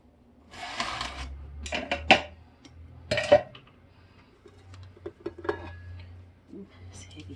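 Thick, sticky fruitcake batter goes into a baking pan with a few sharp spoon clinks and dull scrapes against metal, spread out in short bursts over a low background hum, with a voice speaking at times.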